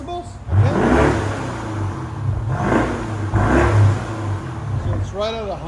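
Loud, close revving from a 2015 BMW 650i's 4.4L V8 with a muffler delete: three aggressive throttle blips that swell and fall back to a deep burbling idle, with people talking at the edges.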